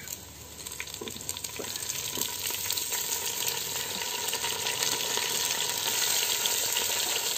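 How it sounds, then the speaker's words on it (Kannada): Tomato, green chilli and ginger sizzle and fry with onions in a pan, a steady close crackling hiss throughout with occasional faint stirring taps. "ಈಗ ಇದನ್ನು ಸ್ವಲ್ಪ ಫ್ರೈ ಮಾಡಿಕೊಳ್ಬೇಕು."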